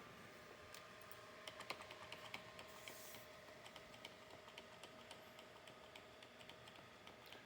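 Keys click on a computer keyboard during a reboot into the BIOS of an MSI Pro H610M-G motherboard, with a quiet, rapid run of repeated taps heard close up.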